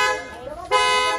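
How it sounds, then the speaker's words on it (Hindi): A Mercedes car horn sounds in two bursts, the second louder and sustained, heard close up with a voice nearby. "बहुत ही ब्यूटीफुल हॉर्न है"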